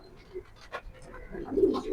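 Pedigreed racing pigeon chicks coo and shuffle close by, giving soft, low murmuring calls that swell toward the end, with light rustling between them.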